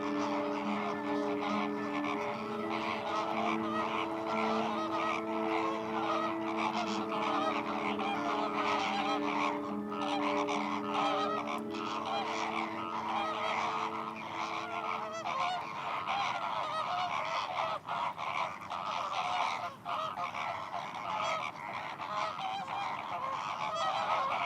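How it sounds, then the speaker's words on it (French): Large flock of wintering flamingos calling on a lagoon in eastern Corsica's coastal plain, a dense continuous honking chorus with layered sustained tones, loud and steady throughout. "Les flamants roses arrivent de Sardaigne, de Camargue ou de Turquie pour un séjour hivernal sur les étangs de la plaine orientale de Corse."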